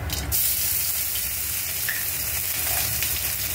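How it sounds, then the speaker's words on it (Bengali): Panch phoron, fennel seeds and ginger paste hit hot oil in a kadai and sizzle loudly and continuously, a close, bright frying hiss with a brief louder burst at the start. "একটু পাঁচফোড়ন দিয়ে আমি একটু মৌরি আর আদা বাটা দিয়ে দেবো"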